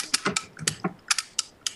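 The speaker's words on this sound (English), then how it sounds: "Somebody's typing something." A computer keyboard clicks in irregular, close keystrokes, about a dozen crisp taps spaced unevenly with short pauses and no talking.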